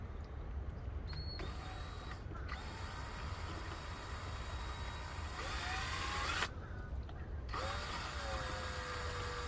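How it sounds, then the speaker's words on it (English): A power drill bores out pop rivets on a 2005 Hyundai Tucson bumper, a quiet close whirring grind interrupted by a few short pauses and faint squealing tones. "Let's see if these drill out easily."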